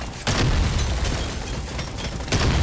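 Ice grenades burst in the video game Deep Rock Galactic, producing dense overlapping booms and pops that fill the stretch loudly and end with a fresh burst near the end.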